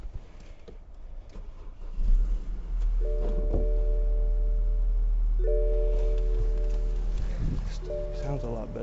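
A 2014 BMW X3 2.0 with a four-cylinder engine cranks and fires up in a garage after repair work on a belt, then settles into a steady, close idle, while a person talks nearby and a repeating electronic chime sounds.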